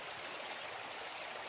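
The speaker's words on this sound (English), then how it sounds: "Last stream, Clonard Creek." Clonard Creek, a stream on the West Coast Trail, flowing in a steady, even rush of water, soft and continuous with no voices.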